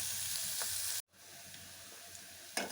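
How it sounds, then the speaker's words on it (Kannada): Curry leaves frying in a pan for a raw banana palya, a steady soft sizzle running throughout, broken by a brief hush near the middle, with a sharper crackle burst toward the end. "ಕರಿಬೇವು ಕೂಡ ಇದನ್ನೇ ಹಾಕ್ಕೊಳ್ತೀನಿ. ಹೀಗೆ ಸ್ವಲ್ಪ ಫ್ರೈ ಆಗಲಿ."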